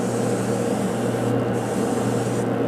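A spray gun applying lacquer finish to a guitar gives a steady, continuous hiss with a constant hum beneath it, even and unbroken throughout at close range.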